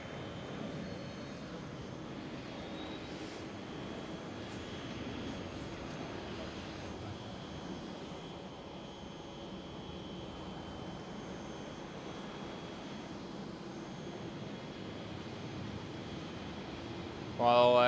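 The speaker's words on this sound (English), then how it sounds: "While KLM 777-300ER is on the runway 24." A KLM Boeing 777-300ER on runway 24 at Amsterdam Schiphol gives a steady, distant jet engine roar that holds evenly throughout, with a brief louder burst right at the end.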